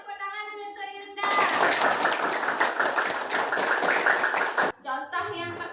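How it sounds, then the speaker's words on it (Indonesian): A class of schoolchildren bursts into loud, sustained applause for a classmate, a dense patter of many small hands lasting several seconds before stopping abruptly, with a teacher's voice speaking before and after. "Kasih tepuk tangan dulu untuk Yunda."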